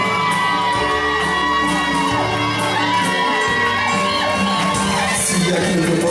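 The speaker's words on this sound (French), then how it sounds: "Des applaudissements s'il vous plaît pour Syria." Crowd at a Guadeloupe carnival event cheering and shouting loudly over music, with children's voices and whoops in a dense, continuous roar.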